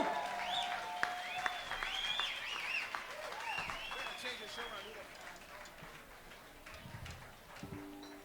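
An audience at a 1982 live country concert applauds the performer, with faint, steady clapping and a few cheers running under a speaking voice.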